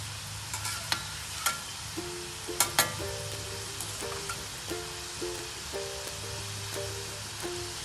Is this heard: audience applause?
no